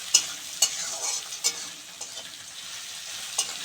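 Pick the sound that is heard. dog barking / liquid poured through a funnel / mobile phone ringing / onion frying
onion frying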